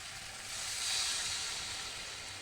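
Water poured into a hot pan for a pangas fish curry, giving a broad, steady hiss that swells and then settles, close and alone.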